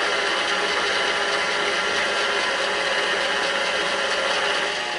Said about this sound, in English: I'm using my dough hook in here, and I'm going to turn it on slow until it's mixed nicely